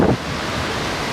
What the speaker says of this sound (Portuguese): Tá sinistro. Olha o vento.